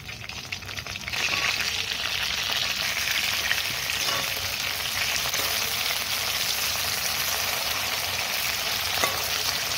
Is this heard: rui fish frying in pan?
yes